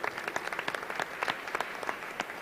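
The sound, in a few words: audience applause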